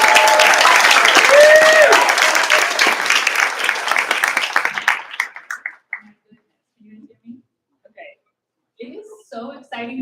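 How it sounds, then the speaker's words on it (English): An audience at an evening book event applauds loudly for several seconds, the clapping thinning into scattered claps before a voice begins speaking. "So let's give these folks a round of applause."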